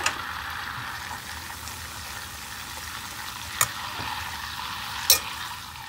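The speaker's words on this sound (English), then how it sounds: "جدرية صغيرة راح اخلي بها زبدة مملحة واذوبها" Salted butter melting in a small pot, a steady soft sizzle and bubbling with a couple of brief sharp clinks of a utensil against the pot.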